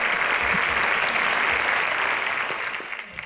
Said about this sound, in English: Please give them a round of applause as you step off the stage